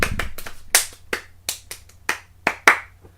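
Hands clap out the cup-song rhythm, about ten sharp, close claps in an uneven, syncopated pattern, each one crisp and dry, with no other sound.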